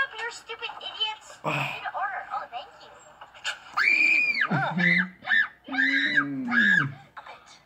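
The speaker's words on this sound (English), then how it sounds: "Screaming." Several people scream and shriek in bursts during a frantic fast food restaurant meltdown, loud high-pitched wails rising and falling over agitated talking voices close by.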